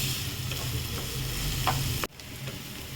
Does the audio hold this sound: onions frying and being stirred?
yes